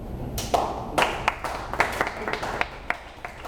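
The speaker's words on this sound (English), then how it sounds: "Harry thought Robert Golden was applauding on that, but he actually slapped a fly or something." A hand slaps a fly during a candidate forum: a series of sharp, isolated slaps and claps, about a dozen irregular hits spread across the moment, moderately close, with a faint room murmur between them.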